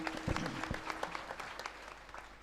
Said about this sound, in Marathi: तर या आजच्या अन्नदात्यांना आपण पुन्हा एकदा टाळ्या वाजून आशीर्वाद द्यायचा